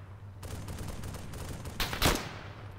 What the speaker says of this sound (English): There's a bunch of Jerry's up shooting at you.